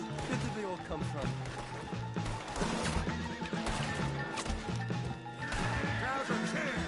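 In a video game, a horse whinnies loudly. Its hooves clop and thud amid crashing scuffle noises and voices talking urgently over the commotion.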